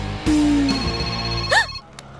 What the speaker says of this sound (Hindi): घंटी बजी तो ये वाइब्रेट मोड पे क्यों चली गई?